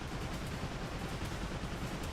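Ship cannons fire in the video game Like a Dragon: Pirate Yakuza, as a dense, continuous roar of booming gunfire that stays loud and steady throughout without a break.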